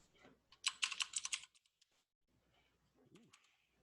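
A burst of rapid keystrokes on a computer keyboard, close and fairly loud for about a second, then a few scattered taps and a quiet pause before faint background noise.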